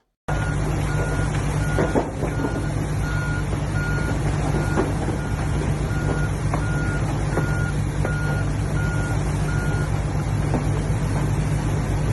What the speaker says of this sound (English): That dump truck was a 40-ton truck, meaning it holds 40 tons of Paydirt.